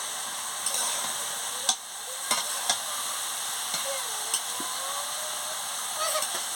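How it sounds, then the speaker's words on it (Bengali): Cabbage, potato and spices being stirred and sautéed in a pan: a steady soft sizzle with scattered scraping clicks of a spoon against the pan, quiet and close. "বাঁধাকপি আলু মশলা সব একসঙ্গে কষিয়ে নিচ্ছি।"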